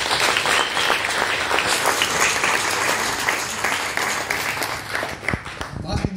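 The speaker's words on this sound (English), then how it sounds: "I think you must give yourself a round of applause." A room full of people at a writers' festival in the Northern Cape, South Africa, applauds continuously, dense clapping holding steady before thinning slightly at the end.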